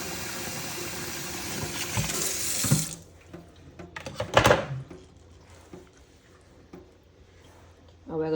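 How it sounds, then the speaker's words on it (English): A kitchen tap runs hard into a pot while preparing Jamaican salt mackerel, a loud steady rush of water for the first few seconds that stops abruptly, followed by quieter clanks and handling of the pot. "catch some fresh water from it"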